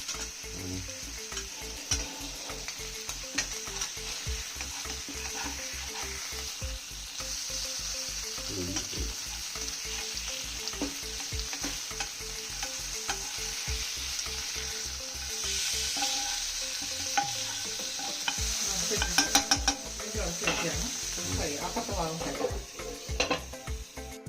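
Fish frying in a pan for Kerala-style kappa and fish curry, a constant close sizzle with clinking of a utensil against the pan and a louder burst of spitting oil as the pieces are turned over, no speech.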